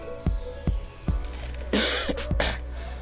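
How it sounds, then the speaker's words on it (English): Several sharp, close coughs from a person in a short burst, followed by a harsher raspy cough and throat clearing. "sorry, I have some cough"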